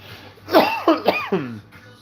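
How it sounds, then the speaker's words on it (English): Someone coughs several times in quick succession, close and fairly loud, harsh throaty bursts followed by a brief clearing of the throat. "Coughing now."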